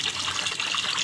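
Water runs steadily from a kitchen tap while soaked rice for idli is rinsed. It makes a continuous close splashing rush with no talking.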